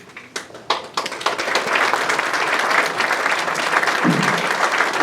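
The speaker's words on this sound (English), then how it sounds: "If you please hold your applause." Audience at a Veterans Day recognition event breaks into applause, starting with a few scattered claps and quickly swelling into loud, sustained clapping from a full crowd, close and steady to the end.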